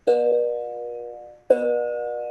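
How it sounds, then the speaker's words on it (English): Two bright plucks of a very old one-stringed ektara ring out about a second and a half apart, each with a twangy attack and a long, slowly fading sustain. "So this is ektara, and it has only one string."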